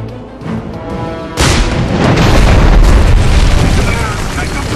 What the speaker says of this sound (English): We're going to fire the cannon!